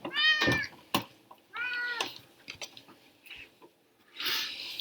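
A house cat meows twice, close and clear, with soft knocks and handling noises in between and a breathy rustle at the end.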